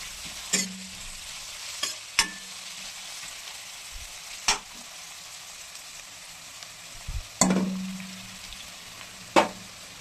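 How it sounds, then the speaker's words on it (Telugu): Thinly sliced raw onions frying in hot oil until brown, a steady low sizzle broken by several sharp clanks and scrapes of a spatula against the pan, close by with no voices. "ఆయిల్లో పచ్చి ఆనియన్స్ని కట్ చేసి సన్నగా వేస్తున్నాను వేసుకొని దీన్ని కొంచెం బ్రౌన్ కలర్ వచ్చే వరకు వేసుకుందాం"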